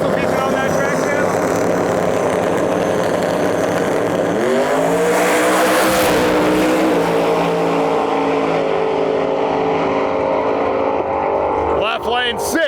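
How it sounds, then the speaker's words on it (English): A green Plymouth Duster drag race car runs down the far side of the track at Gainesville Raceway, its engine a loud continuous roar whose pitch climbs and sweeps midway before fading, with another engine revving sharply at the end. "Rick Trunkett, driving that beautiful, beautiful green Duster, far side of the track"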